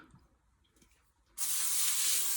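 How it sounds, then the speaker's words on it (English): After a quiet moment, a sustained spray of Pam cooking spray onto a baking pan hisses loudly and steadily from close by, continuing to the end. "lightly spray it with Pam"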